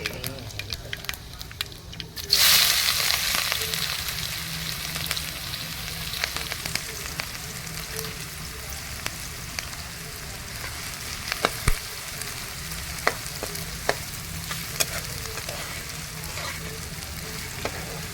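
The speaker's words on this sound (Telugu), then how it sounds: "జీలకర్ర మెంతులు ఆవాలు తాలింపు పెట్టుకొని ఆనియన్స్ యాడ్ చేసుకోండి" Onions hit hot oil with a sudden loud sizzle, settling into steady frying hiss with occasional clicks and pops, a faint voice in the background.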